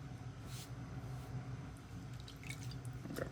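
Wet splashing and dripping as hands dip into water, a steady watery trickle with small splashes, close up and continuous.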